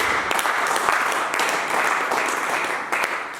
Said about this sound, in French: Acclame Jésus, acclame le Seigneur